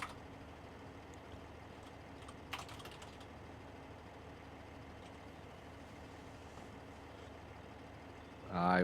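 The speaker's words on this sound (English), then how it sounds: "I was typing, that's why." Keys clatter in a steady, faint patter on a computer keyboard, an irregular stream of soft clicks under a low background hum, ending with a louder burst of sound.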